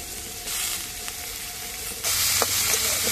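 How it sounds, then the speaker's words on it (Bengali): Chili and tomato fry in a pan with fish, a continuous sizzle that grows louder near the end as more goes into the oil, with brief stirring knocks. "হালকা হালকা হয়ে ভাজু"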